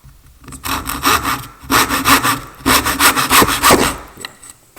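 A tenon saw cuts a wooden tenon held in a vise, with loud close rasping strokes in three quick bursts of rhythmic back-and-forth sawing and brief pauses between.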